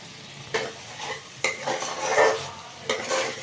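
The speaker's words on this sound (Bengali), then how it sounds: "আমার আলুটাও ভাজা হয়ে যাচ্ছে, মশলাটাও ভাজা হয়ে যাচ্ছে একসঙ্গে।" Spice masala and potatoes fry in hot oil while a spoon stirs them, giving a few sharp scraping strokes over a continuous close sizzle.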